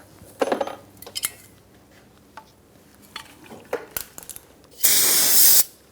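Spray cleaner hisses in one steady burst of about a second onto a newly fitted front brake caliper on a 2012-2018 Ford Focus, after scattered metallic clinks and tool handling nearby, with no speech.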